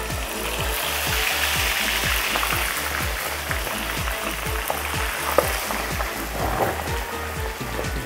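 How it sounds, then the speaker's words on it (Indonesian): Marinated food deep frying in a generous amount of hot oil for an Aceh dish, heard as a close, continuous crackling sizzle with a steady rhythmic low bubbling underneath. "Minyaknya agak banyak karena kita melakukan proses deep fry"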